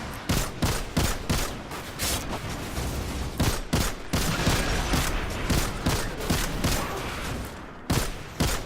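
Explosive rounds fire in rapid bursts during a Destiny 2 firefight, loud repeated shots and blasts packed close together over continuous battle noise.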